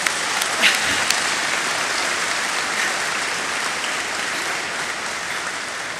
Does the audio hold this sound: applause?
yes